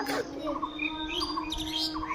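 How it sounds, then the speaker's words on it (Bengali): Mynas, babblers and crows chirp continuously around a feeding spot, with overlapping calls and tweets that stay steady and fairly loud throughout. "বহু পাখি চলে এসছে, শালিক পাখি, ছাতারে পাখি, কাক"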